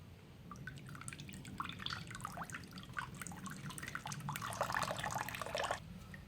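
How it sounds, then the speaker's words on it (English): Water dripping and trickling out of a Ninja 300 motorcycle's cooling system during a coolant flush, faint continuous patter of drops and splashes. "So right now, it's dripping out clear"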